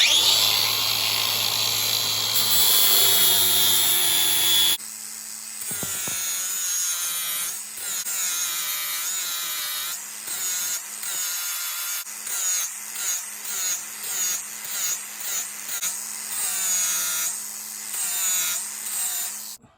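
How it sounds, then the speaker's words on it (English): An angle grinder fitted with a half-worn flap disc grinds through metal down to the parent metal, running loud and continuous for about five seconds before breaking into shorter, uneven grinding passes. "Just got a flapper disc, half worn out one, so it's not so aggressive."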